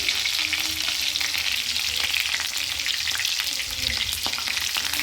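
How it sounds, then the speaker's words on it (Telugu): Cumin, mustard seeds and thinly sliced green chillies fry in hot oil with a dense, continuous crackling sizzle and faint scattered pops throughout. "ఆయిల్ వేడెక్కగానే జీలకర్ర ఆవాలు వేసుకొని సన్నగా కట్ చేసుకున్న పచ్చిమిర్చి ఒక 2-3 పచ్చిమిరపకాయలు వేసుకోండి"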